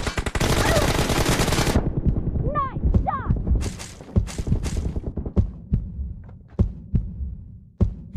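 Gunfire in the mobile battle game BGMI: a dense, loud burst of automatic fire for the first couple of seconds, then scattered single shots and short bursts spaced out, with game effects and a voice talking underneath.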